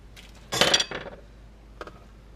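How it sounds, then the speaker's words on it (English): A spoon stirring hop pellets into boiling wort in a pot during a one-gallon homebrew boil, heard as a loud scraping, clinking burst followed by a short quieter clink, with no talking. "Give it a nice little stir."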